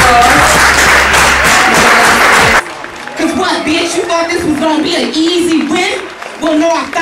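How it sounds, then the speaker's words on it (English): A reunion-show studio audience claps and cheers loudly after a battle rap win, the dense applause cutting off abruptly partway through, followed by quieter crowd murmur and scattered voices. "Let's give her a round of applause"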